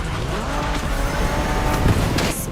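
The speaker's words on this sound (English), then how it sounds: "Are you familiar with the Honda you're driving? The NSX isn't your regular street car." A 1990s Honda NSX sports car driven in The Crew Motorfest gives a loud, continuous engine roar with tyre squeal and a brief harsh burst near the end.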